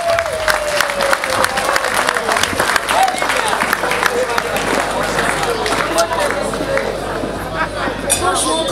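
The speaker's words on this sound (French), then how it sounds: "Est-ce qu'on peut, on peut applaudir," Crowd applause at a 50th anniversary celebration in a Congolese community, steady dense clapping with cheering and chatter throughout, fairly loud and continuous.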